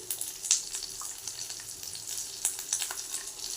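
Ground cumin paste, coriander powder and red chilli powder sauté in a pan with oil, a steady close sizzle broken by stirring scrapes and small pops, with no voices.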